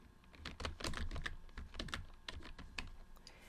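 A computer keyboard is typed on to enter a username and password, a quick irregular run of soft, close key clicks continuing for several seconds at a low level, with no voices.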